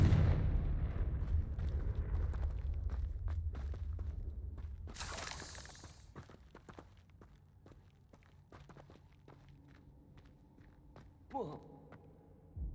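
A Confringo fire spell explodes in Hogwarts Legacy: a loud fiery blast opens, rumbling and crackling into a long decay, followed by scattered footsteps and small impacts.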